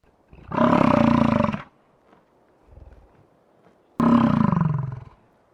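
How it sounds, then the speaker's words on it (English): Two deep, drawn-out bellows from a bison bull, each about a second long and separated by a pause with a low grunt between them. "A challenging bull may bellow to get a female's attention, and the tending bull has to bellow back."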